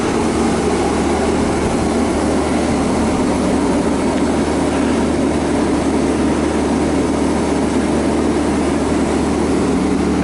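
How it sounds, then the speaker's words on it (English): A generator drones beside a Piper Cherokee being preheated, a steady, fairly loud mechanical hum with broadband rumble that holds constant throughout. "Now I've got the generator running here as well."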